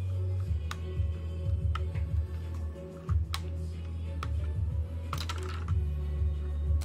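Hot-swap switches are pulled from a Yeyian mechanical keyboard, producing sharp, irregular clicks and plastic snaps close up over a steady low electrical hum.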